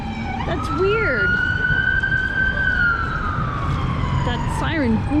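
A wailing siren rises and falls, then holds a long sweeping tone over steady background noise, fairly close and loud.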